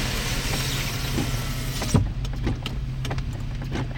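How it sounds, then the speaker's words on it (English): Car traffic heard from inside a stopped car, a steady broadband road rumble that suddenly drops at about two seconds, like a window closing, leaving a quieter low engine hum with faint clicks. "So, currently I'm stuck in traffic."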